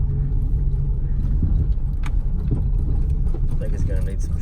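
Plymouth Sundance driving slowly over rutted gravel with worn front shocks, a steady low road rumble and engine drone with faint knocks and rattles from the suspension, someone talking over it.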